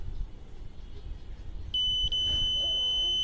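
Arduino smart blind stick buzzer sounding when an obstacle is detected: after low room noise, a steady high-pitched electronic tone starts and holds, with a brief dip, fairly close and clear.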